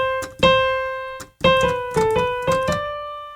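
Piano plays the opening phrase of a melody, about seven clear single notes in a steady, slightly uneven rhythm, close and moderately loud with no talking.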